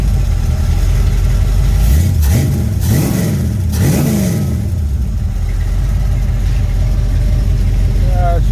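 A rebuilt Mopar 360 V8 in a Chrysler Cordoba runs loud and close, blipped through three quick revs before settling into a steady, rumbling idle.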